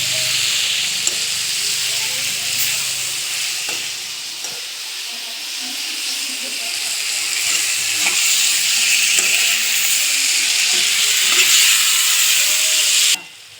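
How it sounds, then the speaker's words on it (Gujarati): Boiled chopped potatoes stir-fried in a hot pan for Gujarati dry potato sabzi, a steady loud sizzle with faint scraping of the spoon, continuing unbroken until it cuts off abruptly near the end. "બાફેલા બટાકા કાપેલા અંદર નાખી દેવાના, અને બધું મિક્સ કરવાનું।"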